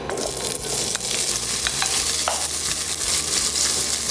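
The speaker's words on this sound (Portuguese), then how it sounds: "agora eu vou virar o meu bacon aqui na minha panela" Bacon fries in an oiled pan with a loud, steady sizzle and scattered crackles and pops, close up, with occasional faint utensil scrapes and no talking.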